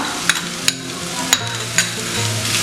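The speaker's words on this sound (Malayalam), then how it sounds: "നന്നായി ഇളക്കി കൊടുക്കുക." Onions and ground spice paste stirred as they fry in a pan, with a steady sizzle and several sharp scrapes of the spoon against the pan at intervals.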